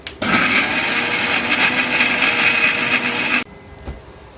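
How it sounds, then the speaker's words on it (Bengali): An electric blender whirring green mango juice, a loud close motor whine starting abruptly, running steadily for about three seconds, then cutting off to near quiet. "এবার আমি মুখটা আটকিয়ে এবার ব্লেন্ডারে ভালোভাবে ব্লেন্ড করব।"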